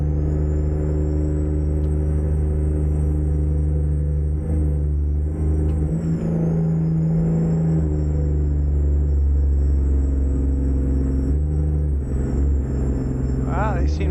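Heavy-haul log truck engine in American Truck Simulator labouring up a small rise, a loud steady low diesel drone with rising whine, with someone talking over it.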